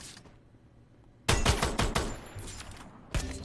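Rapid bursts of video game gunfire crackle loudly after a quiet start, a dense volley of sharp shots followed by a second short burst.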